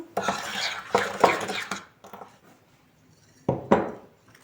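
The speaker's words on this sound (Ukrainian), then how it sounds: "Все добре вимішуємо." A spoon scrapes and clatters against a bowl in quick bursts of stirring a beet salad with pepper and sugar, followed by a pause and another short round of mixing.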